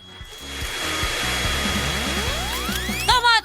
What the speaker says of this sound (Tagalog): Isang hair dryer?